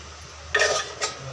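Ragi puttu being mixed with roasted cashews in a pan, two short scraping stirs against the pan over a quiet background.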